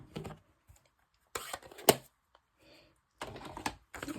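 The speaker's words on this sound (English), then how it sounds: "We're going to stamp this on the inside." Rubber stamp pressed onto the inside of a handmade new-driver greeting card, giving a few sharp separate thumps and taps with quiet gaps between them, close and fairly quiet, no talking.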